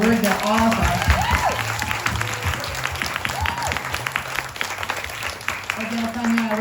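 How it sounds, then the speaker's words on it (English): An audience applauds an event team at a closing session, steady clapping running beneath a speaker's voice, which keeps talking over it throughout. "we should give a really, really, really big applause"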